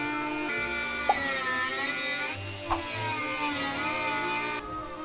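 Handheld saw cutting through an RV bathroom wall: a sustained high-pitched motor whine that holds steady, dips briefly in pitch as it bites, then stops abruptly near the end.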